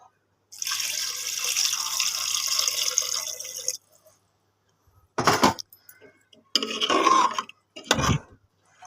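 Water is poured into a pan of chicken feet being cooked, first as a steady splashing pour for about three seconds, then several shorter bursts of running water after a pause.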